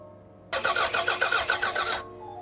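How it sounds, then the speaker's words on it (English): Toyota MR2 Turbo engine cranking on the starter to build fuel pressure, a fast rhythmic chug of about ten even pulses over a second and a half, close and fairly loud, then stopping without catching. "Dennis cranked it to build some fuel pressure."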